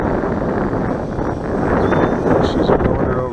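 Steady, loud wind buffets a microphone at a model airplane field where a high-wing E-Flite Apprentice S15e trainer is flown, roaring continuously for a few seconds with slight swells.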